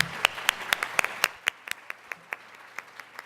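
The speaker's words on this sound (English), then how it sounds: "Let's give them one more round of applause." Audience applause at a women's day breakfast event, a round of clapping from a room of attendees with distinct individual claps thinning out over a few seconds, moderately loud and without talk.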